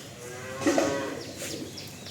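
A single long, low moo from a large cow, fairly close and loud, sounds against quiet farm background noise with no talking.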